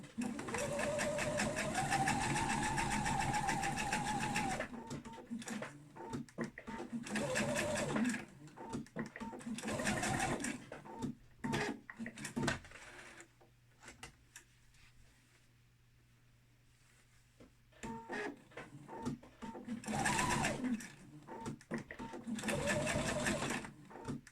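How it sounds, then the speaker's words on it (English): A sewing machine stitches diagonal seams on a fabric bowl cosy, running in several close bursts with rapid mechanical chatter, a brief quiet pause in the middle, and short stops for back stitching. "So when I sew these diagonals, I will back stitch on the inside section here"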